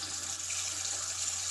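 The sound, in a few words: water running from a sink tap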